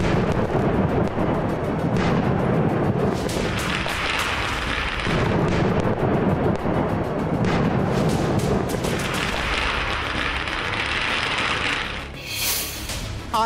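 Diwali firecrackers burst in rapid, overlapping volleys, loud booming blasts and crackling that roll on almost without pause, with a brief sharp bang near the end and no voices.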